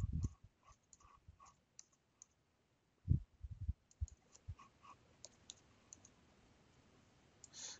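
Sparse computer mouse clicks during Inventor 2014 drafting work, quiet single and double clicks scattered across a near-silent room with a few faint low thumps between them.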